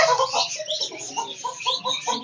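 Aseel rooster at a Faisalabad bird market clucking in a steady run of short, close calls with some bursts of louder squawking, no voices over it.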